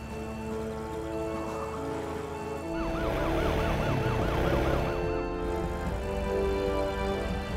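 A mountain rescue vehicle siren in a Fireman Sam cartoon rises into a fast wailing cycle over an engine rumble, fairly loud and sustained, with no talk over it.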